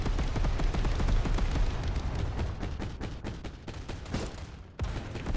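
Cannon fire in a Micro Machines car battle game comes as a loud, rapid barrage of repeated blasts. The volley thins slightly, breaks off briefly near the end, then resumes.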